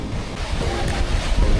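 Bow Falls, a waterfall in Canada, sends a steady, loud broadband rush of water from a viewpoint, with wind buffeting the microphone and no talk.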